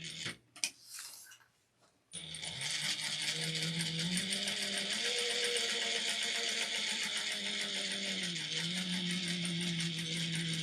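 Home sewing machine backstitching a seam on a two-toned fabric snack bag: a few soft clicks and handling noises, then a steady, close, rapid mechanical whir running continuously with slight changes in speed.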